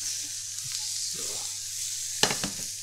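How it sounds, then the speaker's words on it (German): Wild mushrooms frying in a pan over medium heat, giving a continuous even sizzle with a brief clatter of utensils near the end. "Jetzt lassen wir das doch so ein paar Sekunden schön braten."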